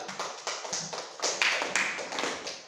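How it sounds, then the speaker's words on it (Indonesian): A classroom of students clapping for a classmate, a quick run of soft, irregular claps close by, with no talk over it. "Tepuk tangan untuk Ananda Aminatul"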